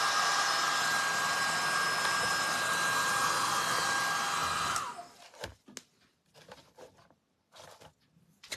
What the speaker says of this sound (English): So I'm going to take the dryer real quick so I don't stick my finger in it